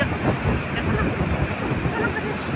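Rough surf and cold wind at Bagasbas beach make a loud, continuous low roar with gusty wind buffeting the microphone throughout.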